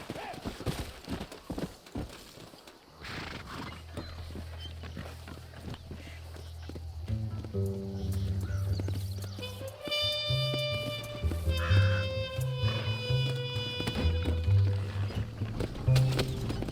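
A horse in Red Dead Redemption: steady clip-clop hoofbeats mixed with wagon rumble and game music, with voices talking over the scene.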